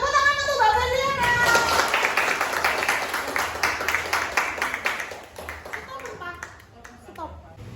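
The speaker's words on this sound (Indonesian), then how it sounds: "Tepuk tangan untuk Mbak Beliana" A middle school classroom in Jombang, Indonesia breaks into rhythmic group clapping, fairly close and lively, between bits of the teacher's voice at the start and end.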